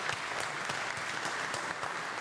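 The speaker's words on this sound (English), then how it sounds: "let's give them a round of applause" A crowd at a car venue gives a round of applause: steady, even clapping from many hands, fairly faint and heard from a distance.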